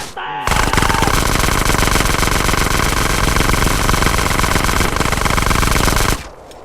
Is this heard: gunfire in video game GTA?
yes